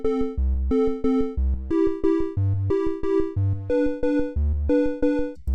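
Pico-8 chiptune music in a modal composition: bright square-wave melody notes over pulsing bass in a quick, steady rhythm, clean and loud throughout with no voices.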